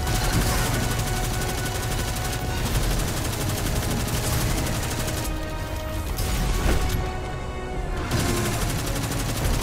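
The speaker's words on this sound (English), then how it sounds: "Stop with the Nova Bombs!" Nova Bomb explosions in the video game Destiny 2 burst in a loud, continuous barrage of crackling blasts and rapid gunfire-like bangs that barely let up, close and heavy throughout.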